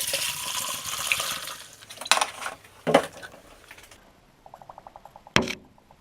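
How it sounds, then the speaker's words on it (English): Coolant poured through a t-shirt filter while working on a rear radiator, a steady watery pour at first, then a few clanks and a short run of quick light ticks, close and alone. "I filter my coolant with a drifted t-shirt"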